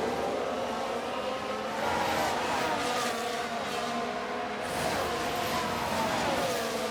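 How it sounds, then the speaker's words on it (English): Formula 1 race cars roar steadily as they battle and overtake in the racing management game F1 Manager 2023. The dense engine drone swells slightly as the cars pass, with no talk. "Albon has got the overtake done on Magnussen."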